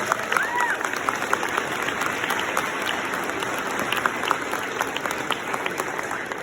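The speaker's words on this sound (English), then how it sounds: "let's give Miss Gramlich a round of applause." Crowd applause at an outdoor Race for the Cure 5K event, a steady dense patter of clapping that holds evenly throughout with a few scattered louder claps and faint voices mixed in.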